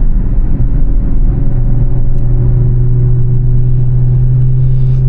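Truck engine with an aftermarket downpipe, loud and close throughout while driving, a deep steady rumble with a strong low drone and no talk.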